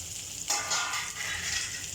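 Small pieces of chopped okra dropped into hot oil for crunchy bhindi, a sudden bright sizzle that flares up and settles into a steady, close frying hiss.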